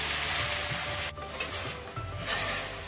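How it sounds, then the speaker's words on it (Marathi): Fenugreek leaves (methi) sautéing in a pan over full gas flame, a steady close sizzle with soft stirring scrapes throughout. "मेथी आपली आता 2 मिनिटं छान परतून झाली, फुल गॅसवर परतायची आहे।"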